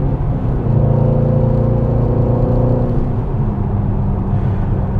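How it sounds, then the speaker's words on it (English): Mercedes-AMG GT V8 exhaust heard from inside while driving, a steady loud low drone with a brief rising then falling engine note, no talk. "I just can't get over that V8 sound."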